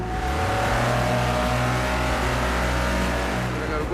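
A 1960s classic car's engine revs at the Goodwood Festival of Speed, a loud, close, continuous throaty drone whose pitch climbs and holds throughout.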